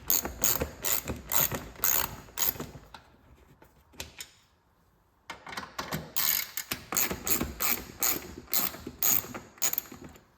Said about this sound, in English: Before we do that, we better pull the screws out here